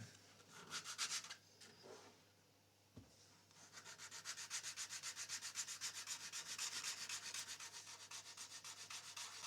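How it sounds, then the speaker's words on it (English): Wood being sanded on a custom guitar body in a luthier's workshop: a steady, close rhythmic rasp of repeated strokes, with a brief pause and a soft knock near the start before the sanding resumes evenly. "Ooh, sanding, ASMR."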